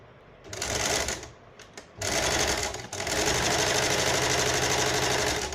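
A sewing machine runs in short bursts and then a long steady run while stitching the shoulder seam of a casual shirt, a close, loud, rapid mechanical whir with brief pauses between runs.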